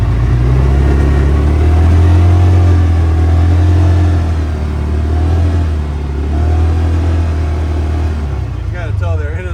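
CFMoto UForce 600 side-by-side in high range with the engine droning loudly and revving as it drives, a deep steady rumble close up, with voices faintly underneath.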